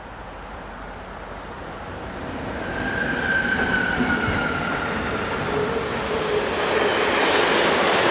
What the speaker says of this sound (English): The train applies its brakes as it catches the Class 186 up.